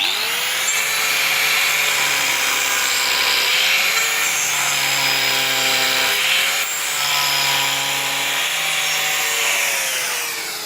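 Steady, continuous abrasive rubbing of carved wood with a droning motorized sander hum, sustained for the whole stretch with slight rhythmic dips as the tool moves.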